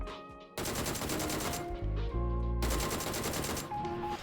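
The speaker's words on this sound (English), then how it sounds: "before I open fire on this guy running on the outside of zone" Sustained rapid automatic gunfire rattles through a PUBG match, loud and close, starting abruptly and running in long dense bursts with a short gap near the middle.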